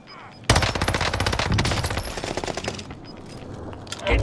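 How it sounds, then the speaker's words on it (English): Machine gun fire in a battle-royale video game, a loud close burst of rapid rattling shots lasting a few seconds, tapering into scattered distant shots before another short burst. "Machine gun."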